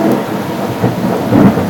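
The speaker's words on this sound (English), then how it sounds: "Almost got struck by lightning on that one." A low, heavy rumble of thunder rolling steadily, with a slight swell near the end, loud and close, no voices.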